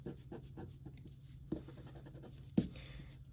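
A pencil eraser rubs excess pencil lines off paper in quick, rhythmic scrubbing strokes, close and fairly quiet, with a couple of firmer taps, and no one speaking.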